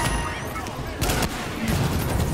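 Gunfire in The Division video game comes as bursts of rapid shots, with louder volleys in the middle and toward the end over a continuous noisy game background.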